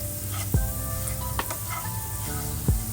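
Sardine curry with curry powder and chili powder sizzles in a pan while being stirred, a continuous close frying hiss with a few distinct utensil knocks against the pan, no voices.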